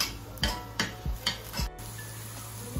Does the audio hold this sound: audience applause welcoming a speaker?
no